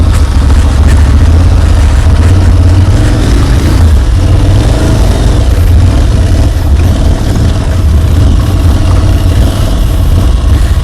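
An Aprilia Tuareg 660 on/off-road motorcycle engine runs on a test ride, giving a loud, continuous low drone mixed with wind rush that holds steady throughout, no talking.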